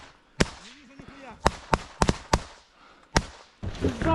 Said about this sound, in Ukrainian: він відстрілюється